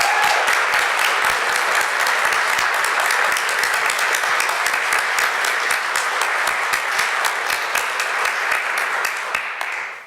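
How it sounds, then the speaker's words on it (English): An audience at a board of education meeting applauds students, a dense, steady burst of many hands clapping close by that carries on for about ten seconds before tapering off at the end. "can we just give a round of applause for these students?"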